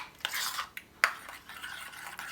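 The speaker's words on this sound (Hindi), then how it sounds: "अब हमने सारे मसाले योगर्ट के अंदर मिक्स कर लेने हैं।" Spices such as ground coriander and chili flakes being stirred into yogurt for a dhaba-style aloo kofta curry, with a few sharp clinks of a spoon against a bowl over soft, steady scraping, close and fairly quiet.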